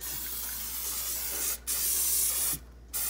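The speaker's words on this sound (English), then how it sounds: "So I'm gonna spray the inside of my Instant Pot." Cooking spray from Costco hissed inside an Instant Pot in two steady bursts, a longer spray and then a second one after a brief pause, close and fairly loud with no talking.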